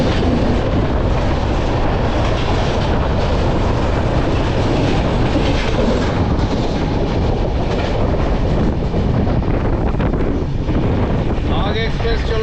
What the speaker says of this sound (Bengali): বাগ এক্সপ্রেস চলে গেল।